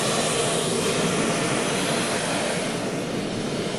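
A small auxiliary power unit or aircraft engine at the rear of an airliner on the ramp drones loud, steady and close, a constant broadband roar with no breaks and no voices.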